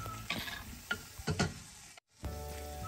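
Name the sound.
leftover ground beef sizzling in butter and minced garlic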